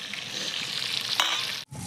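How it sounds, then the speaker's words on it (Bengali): Chanda fish frying in oil on a clay stove, a close steady sizzle with some stirring that cuts off briefly near the end before resuming. "মাছ ভাজা হয়ে গেছে তুলে নিই"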